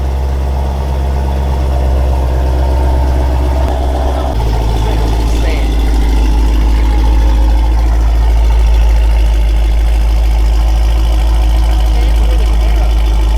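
A loud car engine with high-flow headers and a stock exhaust idles with a deep, rumbling, steady roar that jumps louder partway through, while people talk nearby.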